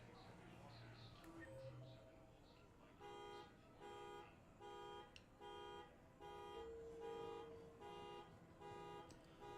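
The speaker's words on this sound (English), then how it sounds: "You guys can hear that car alarm probably." Repeated electronic tones pulse in regular bursts, a car alarm cycling on and off at moderate distance over a busy background.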